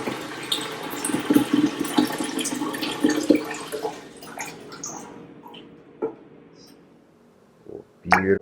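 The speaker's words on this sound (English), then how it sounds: "pour in my warm water here" Warm water pours and splashes into a container while making mead, continuing for several seconds, tapering off into a few drips and a final splash.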